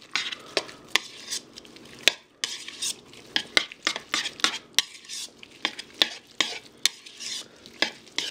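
Squeezed tomatoes and olives, with lime juice, stirred together in a pan: a steady run of sharp utensil scrapes and clinks, close and fairly loud, with no voices.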